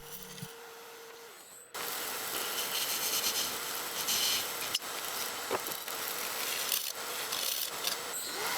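A woodturning lathe shapes a temporary tenon on a coolibah burl blank, a continuous hissing, scraping cut that starts abruptly after a short quieter spin-up and runs steadily at close range.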